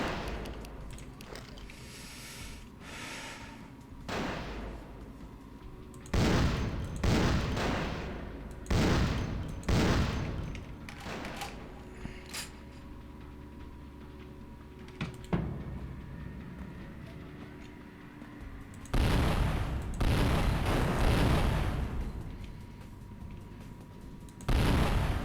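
Gunfire in Vampire the Masquerade: Bloodlines comes in repeated loud bursts of shots spread across the stretch, with quieter game ambience between volleys and no talk over it.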